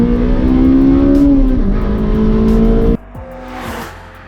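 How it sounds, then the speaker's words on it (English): A Honda Civic FD2 Type R saloon is driven flat out from 0 to 60, its engine revving hard through a rising, loud drone before a gear change cuts it off sharply and the tone drops. "I'm going to quickly show you what the 0 to 60 is like in this car."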